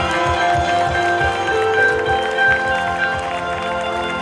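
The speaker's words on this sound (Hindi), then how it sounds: "करो तालियों के साथ प्रेयर, परमेश्वर की तारीफ करते हुए।" Congregation clapping in rhythm during a Christian prayer service in a Hindi-language sermon, steady repeated claps blended with music and voices, fairly loud throughout.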